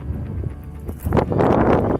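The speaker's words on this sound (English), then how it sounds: "You can probably hear the wind." Gusty wind on the edge of a high mountain ridge near a steep drop-off, buffeting the microphone in rough, uneven bursts that swell louder in the second half, with no talking.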